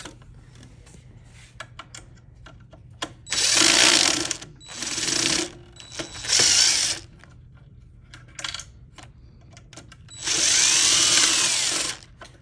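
A power screwdriver backs out screws from a garment steamer arm's shoulder piece in four loud whirring bursts, each a second or two long, separated by quieter clicks and handling noise.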